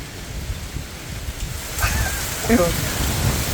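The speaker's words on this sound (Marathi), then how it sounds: "हे डायरेक्ट सगळं एवढं खतरनाक पाऊस आलाय ना" Steady rain pours down outdoors, a broad continuous hiss with light rustling of wind, while a voice briefly speaks over it midway.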